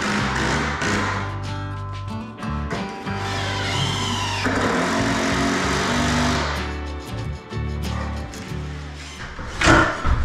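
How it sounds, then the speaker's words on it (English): A power drill drives long screws into a wooden box beam for a bedroom ceiling. The motor whines in several close, loud bursts, with short pauses between them. "I'm sinking those long screws in there."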